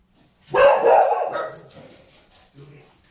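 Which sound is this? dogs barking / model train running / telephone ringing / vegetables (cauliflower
dogs barking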